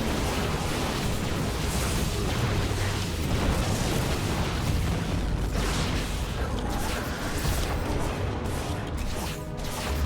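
Dense, continuous rumbling explosions and crashing blasts from particle cannons being destroyed in StarCraft, a loud, unbroken wall of detonations sustained throughout with no clear gaps.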